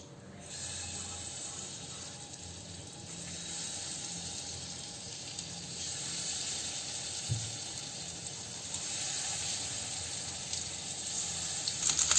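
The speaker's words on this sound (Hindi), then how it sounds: "seems like my oil is ready. And let's release paneer into it." Paneer cubes frying in hot oil in a home kitchen, a steady faint hiss and sizzle running throughout with small bubbling crackles, no voices.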